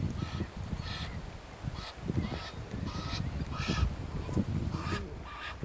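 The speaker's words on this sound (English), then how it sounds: "Noisy Egyptian geese flying past." A series of raucous, nasal honks from several Egyptian geese, repeated irregularly and fairly loud, as the birds fly past overhead.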